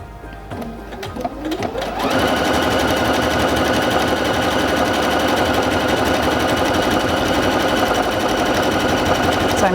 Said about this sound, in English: you can press this button and it will pause, tie off the stitch, and stop sewing